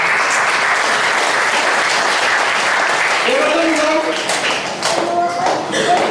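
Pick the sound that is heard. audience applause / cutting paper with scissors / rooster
audience applause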